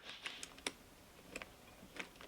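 Clicky mechanical keyboard switches on a key switch tester, pressed in a quick irregular run of close, fairly faint clicks.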